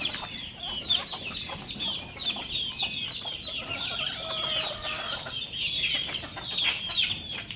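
Backyard chickens cluck continuously and close by, a dense chatter of overlapping calls with no talking.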